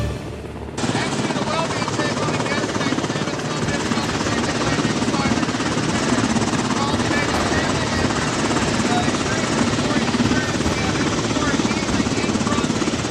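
Loud, steady rotor thump and engine roar of a Coast Guard rescue helicopter in Alaska starting suddenly and continuing close by.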